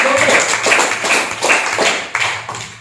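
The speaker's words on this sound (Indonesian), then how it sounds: "Tepuk tangan lagi untuk Mas Kolel" A small group of people in a classroom clapping for a student, with loose rhythmic claps at close range, fairly loud and uneven, carrying on for a few seconds.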